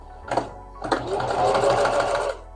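A domestic sewing machine stitches fabric in a short burst after a couple of clicks, its motor whirring steadily and close for over a second before stopping.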